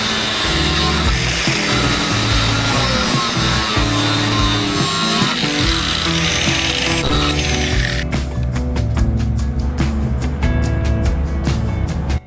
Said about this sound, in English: I think temporarily attaching it to a piece of scrap lumber was the easiest way to cut it off.